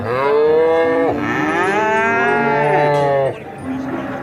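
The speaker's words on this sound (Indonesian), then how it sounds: "ini seekor kerbau" A toy water buffalo gives a loud, drawn-out moo that sounds close by, with a long harmonic call of about three seconds and a short quieter tail after it. No one speaks over it.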